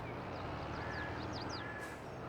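Chickens on a farm in the video game Farming Simulator 22, a few short high clucks and squawks heard at moderate distance over a steady engine-like hum, with no voices.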